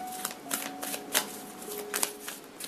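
Tarot cards being shuffled by hand, a series of crisp riffling bursts close up, rhythmic and clear with a faint tone lingering behind.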